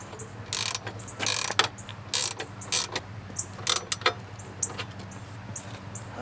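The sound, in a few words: nut being tightened on motorcycle crash bar bolt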